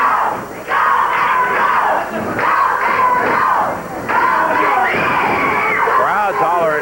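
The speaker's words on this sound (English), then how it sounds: "Crowd's hollering, go Basher, go." A wrestling arena crowd at a 1986 Memphis Wrestling event hollers and cheers loudly and continuously, a dense roar of voices rising in several surges with shouts standing out.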